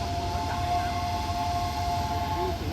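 Steam locomotives 824 and 850, Pacific-class engines, shunting at Chachoengsao Junction station in Thailand: a steady, continuous rumble with sustained tonal whistle-like lines throughout, loud and close, with no talk.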